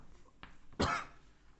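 A single sharp cough, loud and close, after a faint quieter sound, then silence.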